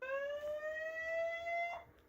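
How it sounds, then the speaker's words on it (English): A Conico 1080P HD baby monitor's motion detection alarm sounds a steady electronic tone whose pitch slowly rises for about two seconds, then cuts off abruptly. No one speaks over it. "An alarm went off right here, and then I got a push notification on my phone"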